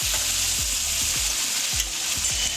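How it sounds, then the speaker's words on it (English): Garlic browns in a hot pan with a close, constant sizzle, punctuated by several dull knocks of a spoon moving it around. "Okay, your garlic is browned."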